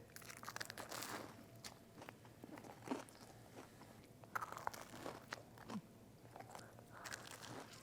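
Someone bites into and chews a crunchy tuna melt sandwich made with toasted bread, giving close, crisp crunches and crackles in an irregular chewing rhythm, quiet but clear, with no talking.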